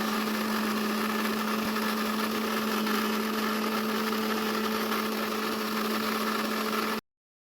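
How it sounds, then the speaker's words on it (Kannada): A mixer grinder whirs steadily as it blends a spice paste of homemade garam masala and a little water for avarekalu sambar, a loud, constant motor drone that stops abruptly near the end. "ಇವಾಗ ಮಿಕ್ಸಿಗೆ ಹಾಕ್ಕೊಂಡಿರೋದು ಆಗಿದೆ ನೋಡಿ."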